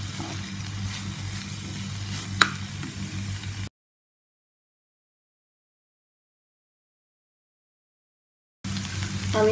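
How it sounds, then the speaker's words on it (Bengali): Vegetables for cutlets frying in a pan with pepper powder and chaat masala, a steady close sizzle with one sharp tick, cut by a long silence before the sizzling returns. "আমি প্রায় 3 মিনিটের মতো ভেজে নিয়েছি।"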